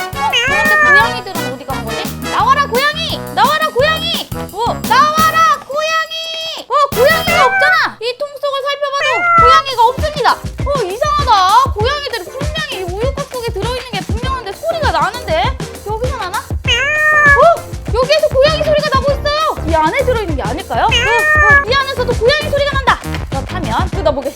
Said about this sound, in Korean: 여기에서 고양이 소리가 나거든요